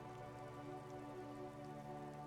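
Rain patters softly and continuously in the detective game Disco Elysium, a faint, even hiss of falling drops layered over a low sustained ambient hum, with no voices.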